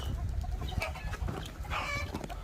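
Bantam Cochin chickens cluck softly nearby in a farmyard, with scattered short clucks and a brief higher call over a low outdoor rumble.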